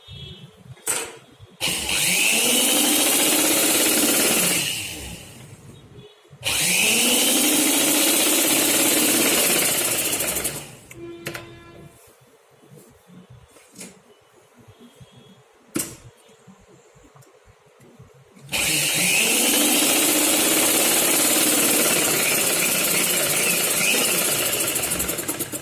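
An electric sewing machine stitches a seam on a women's pant in three long, loud whirring runs of several seconds each, separated by quiet pauses with light clicks and fabric handling.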